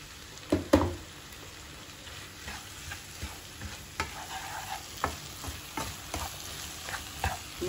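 Onions and tomatoes with salt fry in a pan for a traditional prawn dish, a steady soft sizzle under repeated scraping stirs and light clinks, close by and with no talking.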